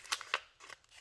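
Scissors snip through paper at close range, two crisp sharp cuts followed by softer rustling snips.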